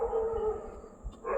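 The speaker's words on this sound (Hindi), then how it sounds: "अभी कुत्ते भौंक रहे हैं बहुत सारे," A group of dogs bark and howl somewhere nearby, a steady, moderately loud canine chorus with a few louder yelps, heard on its own with no voices.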